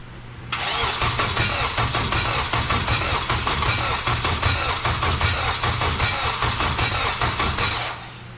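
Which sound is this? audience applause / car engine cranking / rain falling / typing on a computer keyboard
car engine cranking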